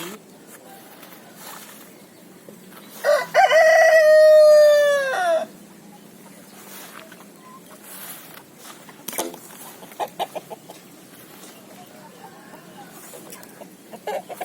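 Chickens waiting for fermented feed: one loud drawn-out crow-like call near the middle, with scattered softer clucks and rustling around it, close by.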